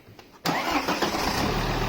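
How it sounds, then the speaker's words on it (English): A 2008 Volvo S80 2.4 D5 diesel engine cranks and fires abruptly after a quiet moment, then settles into a steady, loud, close-up idle with a rough mid-range clatter. No one speaks. "let's start the engine"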